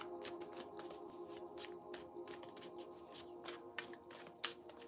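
Tarot cards being shuffled by hand, a steady run of soft riffling and tapping bursts with a few sharper clicks near the end, close and quiet, no talk over it.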